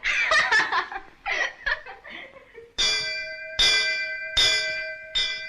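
A bell rings in a 1967 Hindi film, with several struck tones ringing out in sequence, loud and sustained, after a stretch of laughter and voices.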